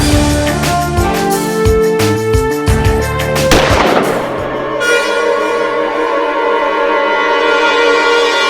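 A rapid burst of gunshots from a handgun in a courtroom drama scene, loud and overlapping dramatic background music, followed by a ringing musical swell.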